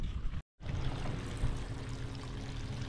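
Water from a pool solar panel pours out in a steady, close stream, briefly cut off near the start before the continuous splashing flow resumes.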